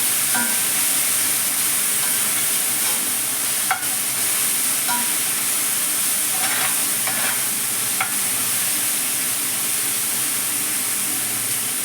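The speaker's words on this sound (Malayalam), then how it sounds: "ഇനി ഇത് നമുക്ക് ചെറുതായിട്ട് ഇങ്ങനെ മുരിയുന്നത് വരെ വറുത്തെടുക്കണം" Steady sizzling and crackling of salted pounded meat frying in a hot pan until crisp, with occasional scrape and clink of a utensil stirring.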